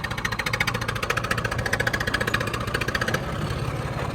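A tractor engine chugs at a fast, even idle in a field during a Basmati 1509 rice harvest. The rhythm is close and steady, then the throb softens near the end.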